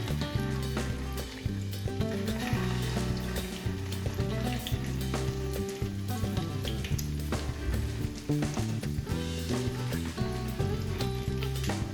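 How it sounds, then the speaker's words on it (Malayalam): Chicken tikka resha kabab pieces, dipped in beaten egg, fry in hot oil with a dense, steady sizzle and crackle that stays loud and close throughout, with no voices. "ഈ മുട്ടയിൽ ഡിപ്പ് ചെയ്തതിന് ശേഷം നമുക്ക് ഫ്രൈ ചെയ്ത്"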